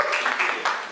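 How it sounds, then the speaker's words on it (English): Brief ripple of applause from a church congregation at a Sunday service, light scattered clapping that swells in a few soft bursts over under a second. "Oh, look at that ripple of applause."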